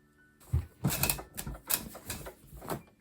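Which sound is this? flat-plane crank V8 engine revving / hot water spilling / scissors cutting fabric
scissors cutting fabric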